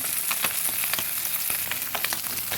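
Punti fish frying in spread oil gives a dense, continuous crackling sizzle with quick popping spatters throughout, close and fairly loud.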